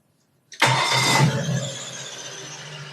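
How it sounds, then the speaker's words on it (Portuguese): A car engine fires up abruptly after silence with a loud starter-and-catch roar that settles into a steady, slightly fading idle, close by and with no talking. "Então eu vou dar a partida no veículo aqui"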